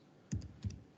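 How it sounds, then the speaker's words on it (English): Two quick pairs of soft key clicks from typing on a computer keyboard in a quiet room, close and faint, with a last light tap at the end. "I'm just typing information here"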